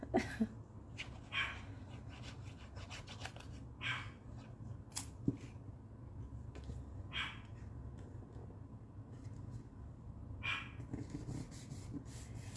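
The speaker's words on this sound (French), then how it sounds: "Vous devriez pas trop entendre mes chiens japper." Small dogs yap in short, scattered bursts from another room behind a closed door, faint and intermittent over a quiet indoor hum.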